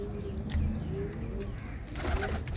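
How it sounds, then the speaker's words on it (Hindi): Indian high-flyer pigeons coo softly inside their loft, with low murmuring calls and a brief flutter of wings over a steady background hum. "ये देखिए, सारे कबूतर अंदर हैं।"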